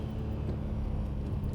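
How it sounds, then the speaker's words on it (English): A Nissan Stagea 260RS wagon with an RB26 engine, making about 400 wheel horsepower, drives along on wide wheels, its steady low engine drone close and continuous with no voices. "God, that sound of the RB26"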